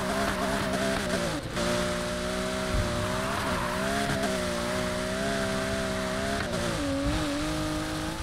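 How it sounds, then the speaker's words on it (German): Engine of a street car in Need for Speed Heat pulling hard out of a corner, a loud steady engine drone with rising and dipping pitch as it accelerates, accompanied by tire squeal and a hiss of rushing air, with no talking. "Kann ich die ganze Zeit immer schön nach der Kurve rausbeschleunigen."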